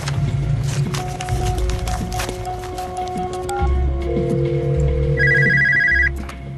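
A telephone rings with repeated electronic tones over a steady low hum and background noise, with no talking.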